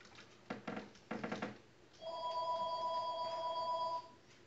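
A telephone rings with a two-second electronic trill, preceded by a few soft knocks or thumps, all alone and at moderate loudness indoors.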